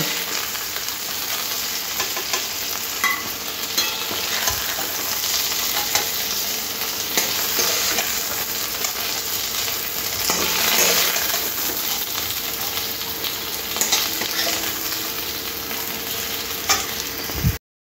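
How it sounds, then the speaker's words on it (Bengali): Okra deep-frying in oil until crispy, a loud dense crackling sizzle that holds steady from start to finish, with a few light metallic clinks. "ঢ্যাঁড়সগুলো এরকম ক্রিস্পি করে ভেজে নিতে হবে।"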